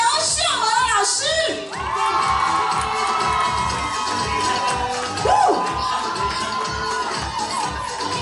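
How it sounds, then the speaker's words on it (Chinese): A crowd at a charity dance show curtain call cheers, screams and applauds in a loud, sustained roar, with shrill whoops rising above it and a voice talking through the noise. "接下来掌声跟尖叫声都要更大声一点哦"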